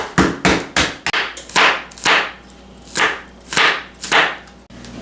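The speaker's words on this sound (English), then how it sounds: "I got my handy dandy mallet. I'm just going to lightly break them up." A mallet strikes a bag of dry ramen noodles about a dozen times, sharp crunching whacks in an uneven rhythm that slows toward the end, close and loud with no talking.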